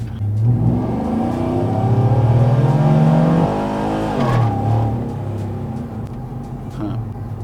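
A 2010 Chevrolet Silverado 5.3-liter V8 with a Texas Speed Stage 4 setup and 33-inch tires pulls on a dyno. The loud engine note climbs steadily, breaks abruptly at a gear shift, then settles into a lower, fading drone.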